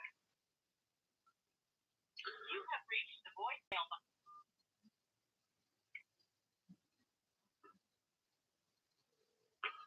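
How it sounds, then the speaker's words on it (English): An outgoing phone call ringing through, heard as a burst of telephone tone and dialing sounds over a speakerphone, faint and intermittent with brief voice fragments around it. "Ah, it's ringing."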